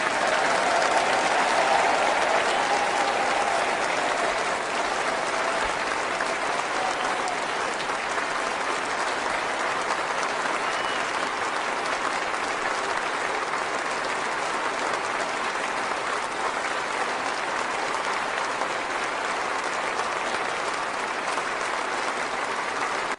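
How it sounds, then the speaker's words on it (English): Sustained applause from a large congregation greeting a newly installed Archbishop, steady and dense throughout, with faint crowd murmur underneath and no speech. "It's lots of clapping."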